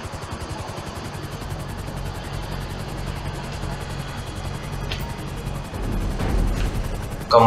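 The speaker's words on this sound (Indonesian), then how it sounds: "Skylift helikopter." Skylift helicopter in GTA 5, a steady rapid rotor chop with a constant engine drone, close and loud throughout, swelling slightly near the end.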